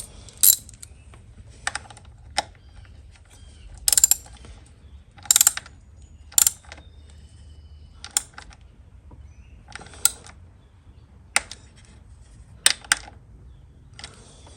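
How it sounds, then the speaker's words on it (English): A ratchet tightens a bolt on a 2003 Yamaha R1 in a series of sharp, close metallic clicks and bursts, spaced irregularly over a quiet background. "now we will tighten up our bolt"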